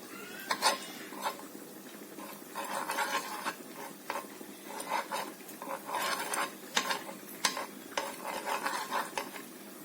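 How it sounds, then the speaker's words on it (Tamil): A burger bun toasting in a little butter on a tawa brings repeated metallic scraping and tapping from a spatula, over a faint background sizzle. The sound is close and busy, with no talking. "ஒரு தவாவில் கொஞ்சமாக பட்டர் விட்டு நம்ம எடுத்து வச்சிருக்க பன்னை டோஸ்ட் பண்ணி எடுத்துக்கலாம்"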